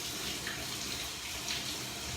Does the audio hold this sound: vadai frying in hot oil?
no